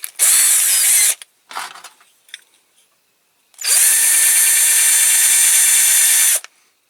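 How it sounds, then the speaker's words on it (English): A power drill whirs loudly in a one-second burst, followed by a few clicks and handling noises, then runs again in a longer, steady burst of about three seconds, drilling a Matchbox Kingsize Aveling-Barford road roller model with a larger, blunt bit. "Try a bigger drill again."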